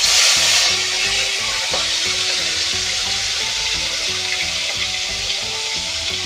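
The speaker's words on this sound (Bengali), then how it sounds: "কড়াতে খানিকটা তেল ঢেলে দিয়েছি। এবার আমি মাছগুলোকে ভেজে নেব।" Small fish fry in oil in a wok with a continuous, close hiss. It bursts louder at the start, then settles into a steady sizzle with no talking.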